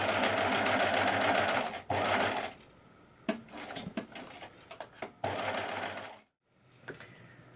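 A sewing machine stitches a neck facing seam in dressmaking, running in steady bursts with short pauses and a pivot between them, close and loud.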